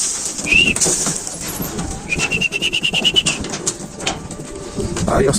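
Racing pigeons coo and call near the loft, with a thin whistling tone and rustling among them while a person talks over the birds.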